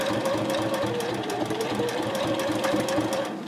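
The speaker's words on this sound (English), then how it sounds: "now I'll just sew off to the bottom of the bag" A sewing machine runs steadily, sewing a seam with a half-inch allowance down to the bottom of a fabric project bag. The motor hum stays close and even with a fast needle chatter throughout, and no one speaks.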